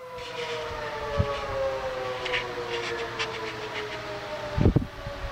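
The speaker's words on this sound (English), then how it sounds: "So there's that whistle." A long steady whistle blows, a sustained tonal blare with several harmonics, accompanied by a few clanks and knocks near the end.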